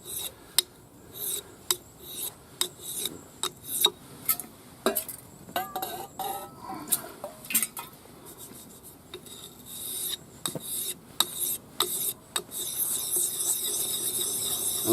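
A Casstrom Swedish forest knife blade scrapes across a two-sided sharpening stone with a rough and a smooth face, making repeated close, gritty rasping strokes in an uneven rhythm with scattered light metallic clinks.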